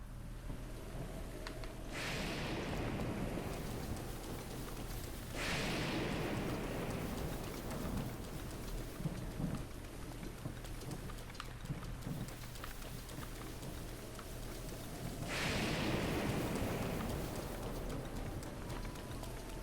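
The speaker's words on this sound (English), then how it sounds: "Why so much rain?" Steady heavy rain pours in The Legend of Zelda: Breath of the Wild, a dense continuous hiss with a few louder surging gusts, no one talking.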